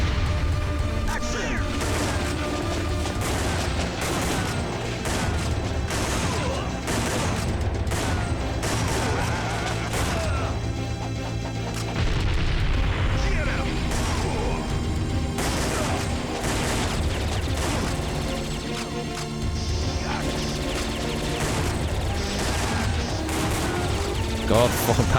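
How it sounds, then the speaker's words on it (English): A Time Crisis arcade shooter on PS1 keeps up dense, continuous gunfire and crashing hits, with German potato masher grenade explosions mixed into a loud, busy battle soundtrack for the whole stretch. "They're using like German fucking potato masher hand grenades."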